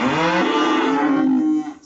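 A single cow moos nearby, a loud drawn-out low bellow that fades out at the end, heard on its own.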